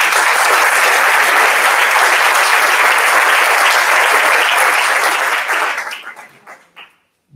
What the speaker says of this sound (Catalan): Un aplaudiment molt gran i molt.